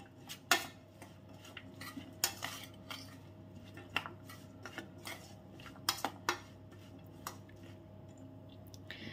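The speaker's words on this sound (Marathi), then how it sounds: "अशा पद्धतीने हे सगळे इन्ग्रेडियंट आपण मिक्स करून घेऊया" Tomato omelette batter ingredients mixed in a bowl with a spoon, faint irregular clinks and scrapes of metal against the bowl over quiet background, no talking.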